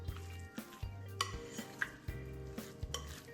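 Stirring hot spinach dip with softened cheese and garlic in a bowl or pan, a series of soft scraping and clinking strokes against the dish, close and fairly quiet, with no talking.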